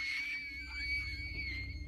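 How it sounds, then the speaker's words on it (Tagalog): A woman's loud, sustained scream from inside a room, piercing and held for nearly two seconds over a low rumbling background, with no talking. "maririnig ang isang malakas na sigaw ng babae mula sa loob ng kwarto"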